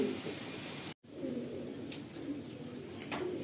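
Andhra Kalsira Lalsira pigeons, a breeding pair brought from Andhra Pradesh, coo softly at a moderate distance, with a few faint calls over a steady background hiss and a brief dropout near one second.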